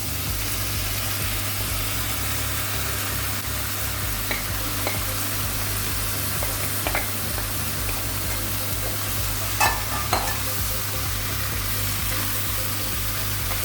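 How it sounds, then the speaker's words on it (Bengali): Banana flower (mocha) frying with spices in a pan for a Bengali mochar ghonto, a steady close sizzle with repeated scraping stirs and occasional louder clinks of the spoon. "এবার আমি ধীরে ধীরে মোচাটাকে আমি দিয়ে দেবো এর মধ্যে।"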